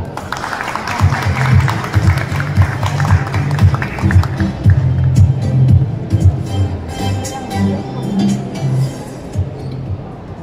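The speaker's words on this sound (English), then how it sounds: "A round of applause for Mr." Applause from a seated audience at the PackPrintPlas Philippines 2025 industry event greets the president of the Philippine Plastics Industry Association, a dense, steady clapping that fills the room for about ten seconds.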